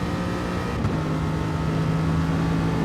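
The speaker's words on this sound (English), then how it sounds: "Now it does sound like there is a little bit of short shifting there from the Aston." In a racing video game, an Aston Martin engine drones loud and steady, rising in pitch with short shifts mid-clip, set against the sound of other cars on the Interlagos circuit.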